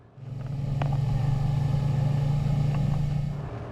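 Twin Suzuki 200 horsepower outboard engines push a boat up onto the plane, a low steady engine drone that swells and holds for a few seconds, with no talking.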